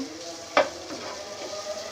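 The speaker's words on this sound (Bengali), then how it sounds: "চিকেনটা দিয়ে আমি একটু কষিয়ে নেব।" Chicken pieces sizzle in a hot pan with a sharp utensil scrape and soft stirring, a steady close frying hiss throughout.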